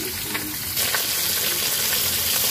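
Okra pieces with their tops trimmed sizzle steadily in a hot pan as they brown, a continuous close frying hiss with faint stirring scrapes and no voices.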